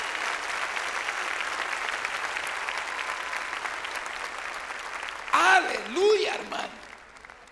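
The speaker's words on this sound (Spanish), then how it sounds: "Démosle un aplauso al Señor" Congregation applause fills a church service, steady broadband clapping from many hands for about five seconds, then fading as someone speaks loudly over the tail end.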